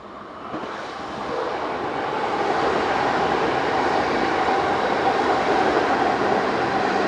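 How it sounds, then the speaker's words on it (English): A Class 152 electric locomotive hauling a short welded rail train passes as a steady, rising roar and rumble that swells over the first few seconds and stays loud, with no speech. "Class 152 electric number 109 on a short welded rail train"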